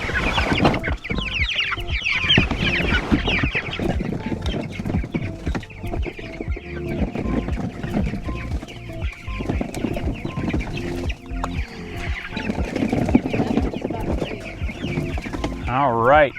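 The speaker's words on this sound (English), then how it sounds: "and then we'll get those chicks out of the brooder." Chickens clucking steadily near a chicken tractor on pasture, a dense, continuous chorus of fowl with a faint crow, people talking quietly underneath throughout.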